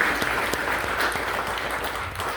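Steady applause from an audience at a town hall meeting in Heritage Hall, many hands clapping evenly at moderate loudness throughout, with no voices over it.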